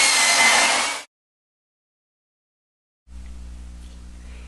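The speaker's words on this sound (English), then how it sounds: "I'm just going around in a circle with the mixer and getting the glaze mixed" Power mixer churning a bucket of pottery glaze: a loud, steady broadband whirring for about a second, then silence, then a quieter low motor hum with a steady drone.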